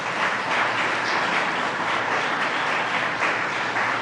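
Audience applause for the mayor at a ribbon cutting for a new affordable housing project, a steady, dense wash of clapping that holds at an even level for the full few seconds with no voices over it.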